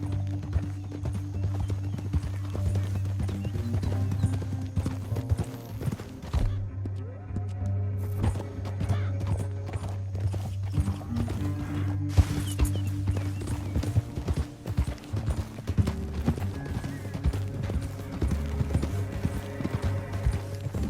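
Steady clip-clop of horse hooves trotting in Red Dead Redemption 2, with layered music and ambient game sounds throughout, a brief drop in the music midway.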